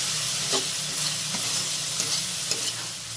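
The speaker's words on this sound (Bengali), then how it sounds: "এবার ভালো করে মশলা কষাবো।" Masala with tomato sauce being stir-fried for an egg and cabbage curry gives a steady sizzle with soft scraping strokes of a spatula at a slow, uneven rhythm, heard up close with no voices.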